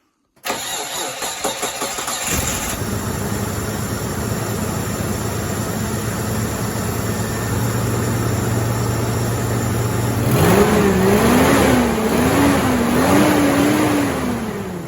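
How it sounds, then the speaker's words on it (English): A 2002 Mitsubishi Montero 3.5 engine cranks and catches after valve cover gasket work, settling into a steady close idle before rising into a couple of revs toward the end, with no talk. "it's time to fire it up and see if we attached everything"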